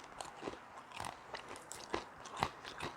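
Crisp bites into a thick-baked keto fathead dough pizza crust give a run of sharp, close crunches and chewing crackles, irregularly spaced over a few seconds with no talking.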